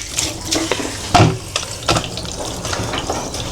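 Food being washed under running water with seawater, a close splashing and trickling stream with irregular wet clatters and sloshes, no talk.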